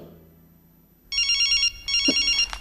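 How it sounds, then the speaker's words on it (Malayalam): An electronic telephone ringtone sounds in a classroom in a 2007 Malayalam film scene, with two bright, warbling bursts of ringing about half a second apart, close and loud, with no talk over it. "Whose phone is that?"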